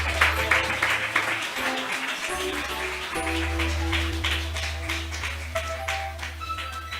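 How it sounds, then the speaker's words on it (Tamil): A church congregation at a Tamil Christian service claps together for Jesus, a moderately loud, sustained patter of hands over a steady low hum, with scattered sharper claps throughout. "சொல்றவங்க மாத்திரம் ஒரு பெரிய கைத்தட்டி ஏசப்பாவுக்கு"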